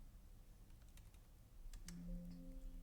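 Keys tapped on a computer keyboard while purchase rates are entered into business management software, a few scattered clicks followed by a quiet steady hum, faint and close.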